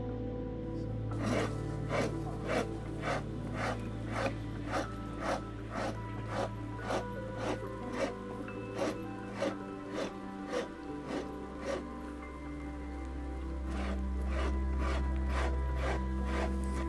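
A rasp files the wood of an ash longbow in steady rhythmic strokes, each a harsh scraping rub repeating about twice a second, close and clear over a low background rumble.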